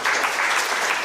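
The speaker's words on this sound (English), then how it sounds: "Clap for yourselves." Brief, dense burst of audience clapping at an international scientific conference, loud and continuous for about a second with no voices over it.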